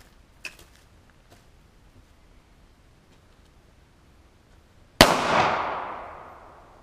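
A single loud 9mm pistol shot aimed at a computer monitor outdoors in a backyard rings out after quiet moments holding a few small clicks, and its echo fades slowly.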